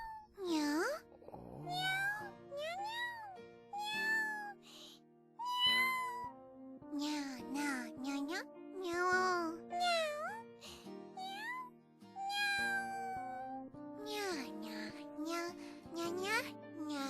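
An anime voice actress imitates a cat, giving a long run of high, bending meows in short bursts with brief gaps, clear and close, some turning into mewing cat-like talk.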